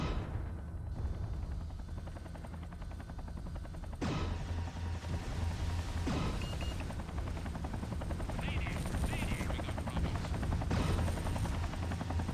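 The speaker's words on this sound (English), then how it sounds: "Okay, there's a helicopter spanking me." An attacking helicopter in the MechWarrior 3 game roars steadily and loudly throughout, its dense rotor and engine drone mixed with low rumbling weapon fire and occasional sharper impacts.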